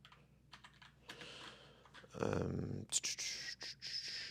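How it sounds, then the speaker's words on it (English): Computer keyboard typed one-handed, close, scattered key clicks in uneven bursts with short pauses, followed by a quick run of faster taps. "I'm just gonna type one-handed."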